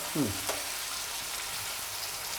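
Ingredients for a fish dish frying lightly in oil, a soft continuous sizzle at moderate distance, with a brief scrape of stirring near the start and no talking.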